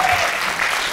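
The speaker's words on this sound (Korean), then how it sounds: "네키즈 컴퍼니의 조은혜 대표를 여러분께서 박수로 맞아주시기 바랍니다" Audience applause welcoming a company head onstage at a university book forum, a dense, loud wash of clapping throughout.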